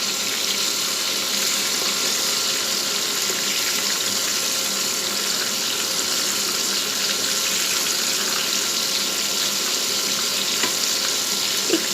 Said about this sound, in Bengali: এখন এটাকে আমরা ফ্রাই করে নিচ্ছি, এটাকে আমরা লাল লাল করে ভেজে নিব।